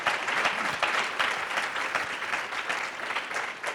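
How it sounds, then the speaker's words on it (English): An audience at a school board candidate forum gives a round of applause, dense and even clapping filling the room at a steady level throughout. "Yeah, we could give him another round of applause if you want."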